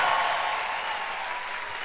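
Dense, steady applause from a large crowd at a live Christian music concert in Phoenix, Arizona, acknowledging a string section, a continuous roar of clapping with no speech over it.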